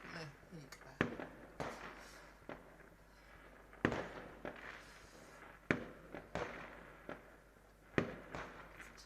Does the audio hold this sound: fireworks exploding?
yes